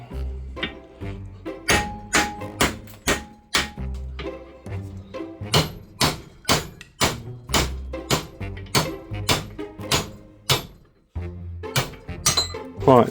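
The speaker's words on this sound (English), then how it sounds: "I'm just going to cut some of the rubber and just hammer it" Repeated sharp metallic hammer blows drive a rubber suspension bush out of a Mk3 Golf GTI suspension arm after the rubber is cut, struck in a steady rhythm of loud, close impacts with a brief pause near the end.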